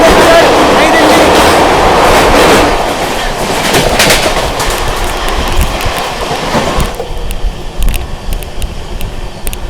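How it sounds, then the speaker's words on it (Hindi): An Amrit Bharat Express, the 22361 Rajendra Nagar Patna–New Delhi service, rushes past at speed, loud and close at first with a heavy rumble and rattling wheels, then drops away sharply, as a voice talks over it. "यार रफ्तार में निकली है भाई अमृत भारत एक्सप्रेस"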